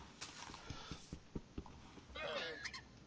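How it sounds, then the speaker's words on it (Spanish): Llamas in Minecraft let out a drawn-out bleating cry after a run of clip-clopping footsteps and thumps, fairly quiet within the game's background. "Están las llamas ahí también pegando gritos."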